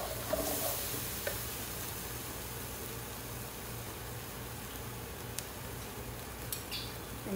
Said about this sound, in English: I'll fry the masala.